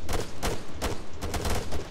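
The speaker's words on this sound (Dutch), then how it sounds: "Achter die rots daar, er wordt opgeschoten." Gunfire from Arma 3 multiplayer, a rapid string of loud shots in short bursts over a continuous battle rumble, with no voices.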